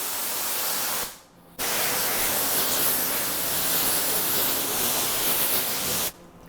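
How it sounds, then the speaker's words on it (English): A foam cannon sprays pH neutral SB3 soap onto a car in a loud, steady hiss that cuts out briefly, resumes, and then stops, heard close with no talking. "And then again, we're just gonna spray top to bottom."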